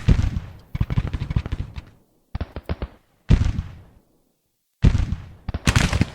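Civil War troops fire musket volleys in the Grand Tactician strategy game: several crackling bursts of massed fire, each rolling for a second or so and then breaking off into silence.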